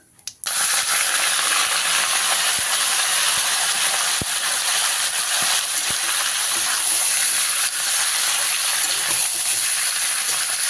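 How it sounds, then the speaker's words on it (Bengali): Chicken pieces fry with cumin in hot ghee and oil while being stirred, giving a loud, continuous hiss with occasional light clicks and taps of the spoon. "চিকেনটাকে হালকা কিছু সময় নেড়ে নেবো, যতক্ষণ না চিকেনের গায়ে এরকম একটু সাদা সাদা স্পট পড়ছে"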